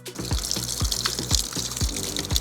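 Mountain stream water flowing beside a hiking trail in Norway, a steady close rushing and splashing wash with a faint rhythmic knock repeating underneath, no voices.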